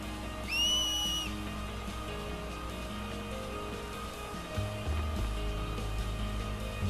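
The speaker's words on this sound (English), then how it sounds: "Just remember that whistle." A sharp rising finger whistle sounds once early on, in the Final Fantasy X video game. It rings out over a quiet ambient music bed.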